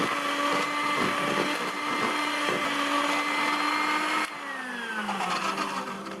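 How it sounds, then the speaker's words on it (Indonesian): An electric hand mixer whirs steadily while beating egg into choux pastry dough, a loud continuous buzzing drone that drops slightly in pitch and level near the end as the batter thickens. "Lalu kita mixer ya teman-teman. Harus di mixer agar tercampur merata."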